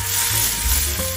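Octopus flambéed with white wine over high heat sends up a loud, close burst of sizzling and roaring hiss, brief and dense, with no talking.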